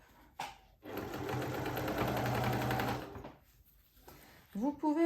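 A sewing machine stitches a seam along the zipper of a fabric pouch, running in a steady close whir for about two seconds after a brief click; a voice speaks briefly near the end.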